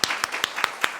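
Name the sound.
church congregation applause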